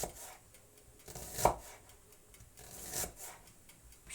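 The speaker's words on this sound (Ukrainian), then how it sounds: "ріжу я ту цибулю" A kitchen knife cuts onion on a board, giving a few sparse, soft thuds and scrapes, close but quiet, with pauses between strokes and no talking.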